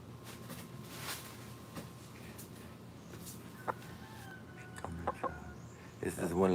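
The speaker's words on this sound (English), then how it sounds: "This is one of the good chickens." A chicken on a rural grove clucks in short bursts near the end, faint and scattered over a quiet outdoor background with soft rustling.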